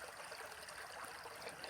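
Creek water flows in a continuous soft broadband rush and trickle, faint and steady throughout with no distinct events and no speech.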